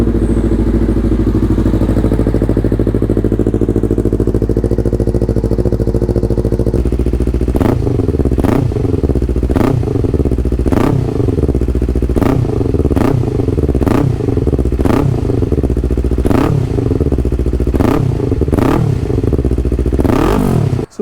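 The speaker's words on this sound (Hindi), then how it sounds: "सुनते हैं एग्जॉस्ट साउंड।" A modified Yamaha R3 with a full Scorpion exhaust system, headers and slip-on, idles loudly at close range, then revs repeatedly in sharp, rising bursts with crackling pops between them.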